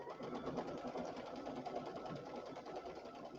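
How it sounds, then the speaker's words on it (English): A Brother Luminaire embroidery machine stitching a small corner flower, running as a steady fast needle clatter that holds an even, continuous rhythm throughout. "So let's go ahead and sew it. So this is just going to do the little corner flower."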